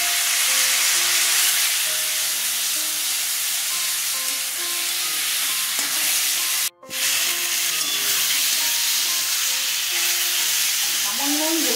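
Ripe mango pieces, rubbed with salt and turmeric, hit a pan for a sweet gandharaj mango chutney, giving a steady broadband sizzle throughout with a brief dropout midway and faint background tones.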